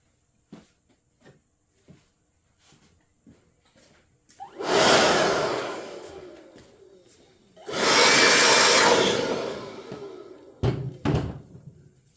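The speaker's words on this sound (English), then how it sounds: "I like to get in there with the blower." An air blower blasts debris out of an old, dirty intake manifold in two long, loud bursts. Scattered knocks and taps come before and after them.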